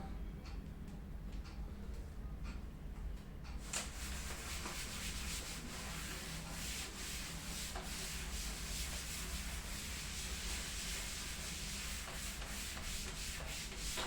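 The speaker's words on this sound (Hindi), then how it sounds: "चलो मैं इसे रब कर देता हूं" A writing board is rubbed clean by hand in a Class 10 trigonometry lesson, giving a continuous, loud, even scrubbing hiss. The sound fills the whole stretch and grows brighter after the first few seconds.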